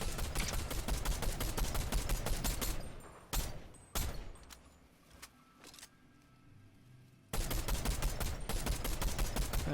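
Weapon fire in Fortnite Zero Build: rapid automatic bursts, loud and continuous at first, then a quieter gap with a few isolated shots before another sustained burst.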